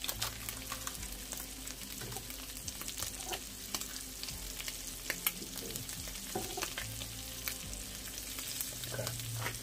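Tomatoes fry and sizzle in a pan as a breakfast of steak, eggs and potatoes comes together, a steady crackling hiss with occasional stirring knocks, close and continuous with no talk.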